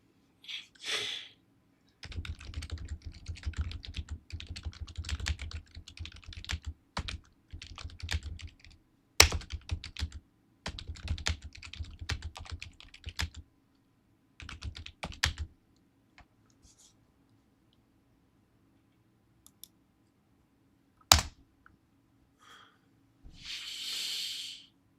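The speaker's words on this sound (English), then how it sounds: "Can you hear the anger in my typing?" A computer keyboard clatters in quick bursts of typing, near and fairly quiet, with short pauses and a few harder single key strikes, and a soft hiss or breath near the end.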